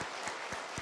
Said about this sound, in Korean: 우리 시온 성가대 위해서 한번 감사의 박수 한번 해주시기 바랍니다.